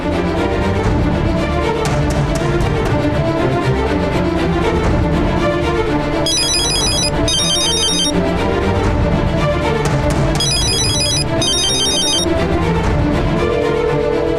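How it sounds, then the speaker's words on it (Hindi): A telephone rings in two pairs of short, high electronic trills, heard over a loud, busy background. "फोन उठाइए"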